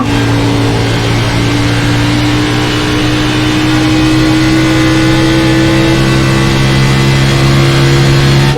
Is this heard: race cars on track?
yes